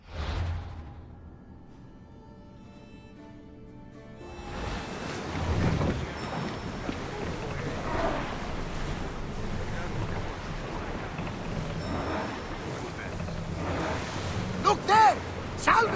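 A sailing ship moves across the sea in Assassin's Creed Odyssey, with soft wind and rolling waves that start quiet and then swell into a steady, fuller wash of water.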